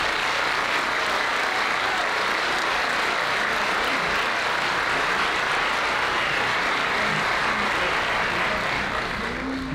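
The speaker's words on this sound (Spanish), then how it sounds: "Yo les pediría un aplauso para todos ellos." An audience applauds members of the Teatro Real Madrid symphony orchestra at an orchestra presentation, producing a dense, continuous wash of clapping that stays loud and even throughout, blurred into a roar-like texture.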